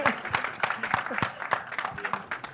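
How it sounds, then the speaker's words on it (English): Audience applause at the Freaky Ali (2016) trailer launch for the cast and crew, scattered rhythmic clapping from a crowd, fairly faint and uneven, with a voice speaking over it. "huge round of applause for the cast, for the crew, for the team of Freaky Ali"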